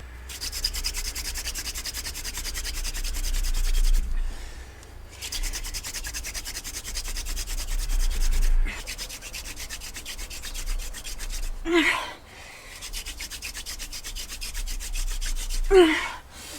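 A wooden hand drill is spun rapidly between the palms on a fireboard to make a friction fire, giving steady rhythmic rubbing strokes in long bursts broken by short pauses, close and fairly quiet.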